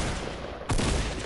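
Single loud revolver shot in Fortnite, a sharp broadband crack at about 0.7 s that decays into a rumbling tail over steady game ambience.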